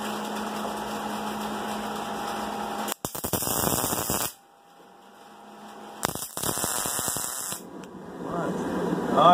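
Electric welding on a steel sword fullering jig, loud crackling hiss in two bursts separated by quieter hum, with mains hum and static throughout.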